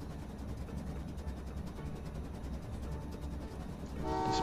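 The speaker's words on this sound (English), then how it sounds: "Dispatch another train with sand." A train rolls along in the railway-building game Train Valley 2, a steady rumbling clatter of wagons that swells near the end as a bright horn-like tone sounds.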